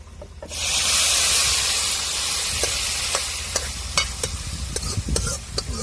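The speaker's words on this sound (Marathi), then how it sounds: "मस्त सगळं एकत्र करून फोडणी देऊन घ्यायची" Tempering hits hot oil for an ambat chuka leafy vegetable curry and sizzles at once in a loud, close hiss. It then settles into a steadier fry, punctuated by sharp spatters and stirring clicks.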